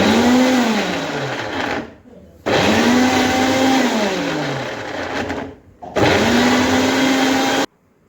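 A kitchen mixer grinder crushes chopped ginger in its jar in three loud whirring bursts, each motor whine rising and settling, separated by short pauses.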